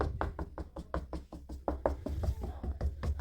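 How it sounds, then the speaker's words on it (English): Knuckles rap on a repaired plaster wall in a quick, even series of about fifteen close, solid knocks, with no talking. "if you give it a knock, I think it's penetrated further than what you can see, because none of this sounds off"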